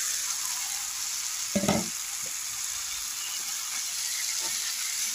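Fried pieces sizzle in a pan of cooked-down masala for pumpkin curry, a steady bright hiss of frying with one brief utensil clatter and a few faint stirring scrapes.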